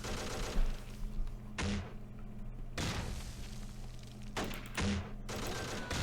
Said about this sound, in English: now we've got our entire team firing on them. We've got our tank firing on them